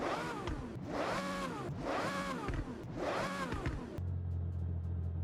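A high-revving V12 engine of a 2003 Aston Martin DB7 GT in a video game screams through repeated rising and falling sweeps, loud and close, then settles into a steady low idle.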